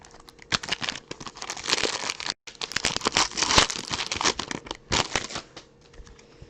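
Packs of football trading cards are shuffled rapidly by hand, producing dense, close crinkling, flicking and rustling in quick bursts with a brief pause partway through, all without talking.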